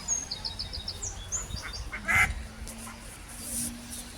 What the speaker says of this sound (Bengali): এই হাঁসগুলো কেমন, এটা হচ্ছে গ্রে কালারের হাঁস